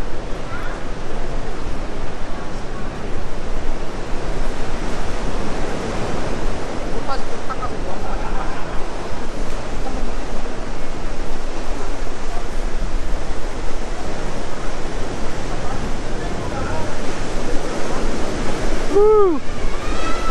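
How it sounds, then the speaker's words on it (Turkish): Strong ocean waves hit hollowed rocks on the Bali coast, a loud, continuous roar of surf with wind buffeting the microphone and a brief voice near the end. "Dalgalar bayağı güçlü vuruyor."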